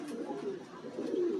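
Blue bar philback pigeons coo softly and continuously in low, throaty rolling notes, close by, with no talking.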